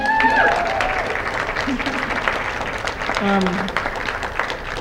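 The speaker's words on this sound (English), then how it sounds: "we can get a round of applause from folks" Applause from an audience at a student panel celebrating 25 years of Women's and Gender Studies at Kingsborough, a steady wash of clapping with some voices mixed in.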